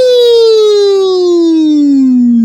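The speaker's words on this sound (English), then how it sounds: "The police sirens played and the cops, they showed up" A single loud police siren wail glides slowly downward in pitch, a clear, steady tone sounding alone.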